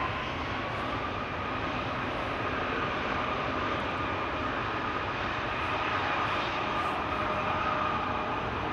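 A Ryanair airliner taking off at Amsterdam Schiphol gives a steady, heavy engine roar building under thrust, distant but dense and continuous throughout, with no voices over it.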